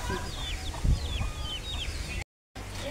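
Chickens cluck softly outdoors in a series of short, repeated calls with a bird-like edge, mixed with low background rumble and a brief silent gap near the end.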